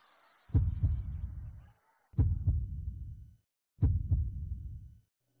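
Deep double knocks thud three times at an even, slow tempo in a song, each pair ringing out briefly before silence, like a metronome or heartbeat.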